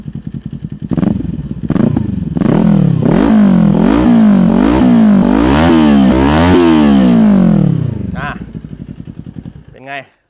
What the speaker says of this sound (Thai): เสียงสองสูบลั่นได้ใจนะครับ